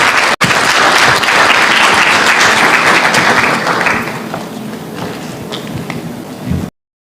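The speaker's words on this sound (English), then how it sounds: "applause." An audience at the Africa Employers Summit in Nairobi breaks into loud, sustained applause that holds for about four seconds, then thins to scattered clapping before stopping abruptly.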